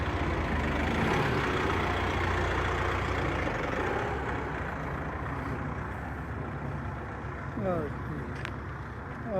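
A tractor engine runs on a farm in Canada, a steady loud low rumble that slowly eases, with people talking over it and a few birds chirping near the end.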